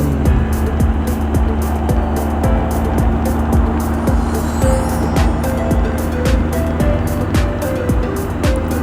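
Heavy southbound highway traffic on SLEX heading toward Bicol in the Philippines: a steady, loud stream of cars and trucks with repeated pass-by swells and engine hum, continuous throughout.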